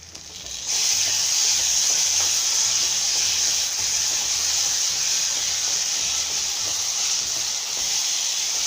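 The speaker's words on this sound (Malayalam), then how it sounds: "ഈ പൊടിൻ്റെയൊക്കെ പച്ചച്ചവ മാറുന്നവരെ നല്ലവണ്ണം ഇളക്കി യോജിപ്പിക്കുക" Chicken masala powder roasts in a hot pan with a steady, loud sizzling hiss that starts abruptly and holds evenly throughout, stirring scrapes faintly audible, no voices.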